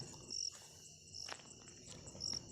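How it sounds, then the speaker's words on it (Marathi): Crickets chirp on a rainy night in short, repeating high bursts, faint and steady, with no voices. "किर्र रातकिड्यांचा आवाज वातावरणात पसरला होता"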